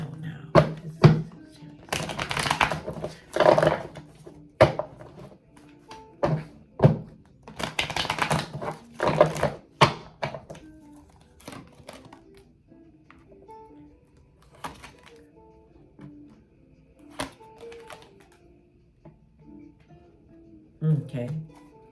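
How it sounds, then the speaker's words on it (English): Tarot cards being shuffled in repeated riffling bursts, crisp and close, with a person talking intermittently between and over the shuffles. "so I'm shuffling your cards"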